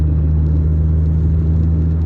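Car cabin during a driving lesson, the engine humming low and steady under light throttle with a constant road rumble and no voices.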